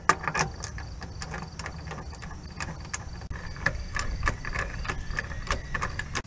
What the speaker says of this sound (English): finally you're going to tighten down the bolt